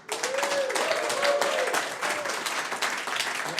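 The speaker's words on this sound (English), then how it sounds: "Round of applause." Audience applause for a first-time speaker at a B2B SaaS marketing talk: dense, steady clapping from a crowd throughout, loud and sustained with no break.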